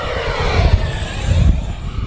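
A miniature RC F-16 jet fighter makes a full-throttle pass, a loud, close rushing roar that holds steady and shifts slightly as it sweeps by.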